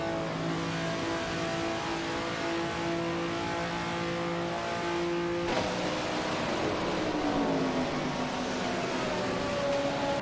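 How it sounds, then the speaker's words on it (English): Racing cars in a simulator game roar and rev continuously, with a steady engine drone whose pitch holds, then drops sharply and climbs again as another car passes close by, loud throughout. "We just witnessed another exciting race with artificial intelligence driving the racing cars in the simulator."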